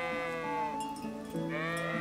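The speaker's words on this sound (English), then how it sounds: "Herding sheep confirmed." Sheep bleat while being herded in Kingdom Come Deliverance, with two drawn-out, wavering cries, the second louder and closer, and no talk over them.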